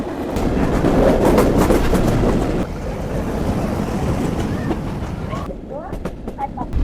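A commuter train pulls into Kakurhat railway station with loud, continuous rumbling and rattling close by, clacking of the wheels, and wind buffeting the microphone. Faint voices sit under the noise near the end.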